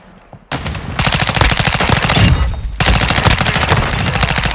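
Rapid automatic gunfire from a weapon in Call of Duty: Modern Warfare 2, loud sustained bursts of fast shots with a brief break between two long strings, no talking.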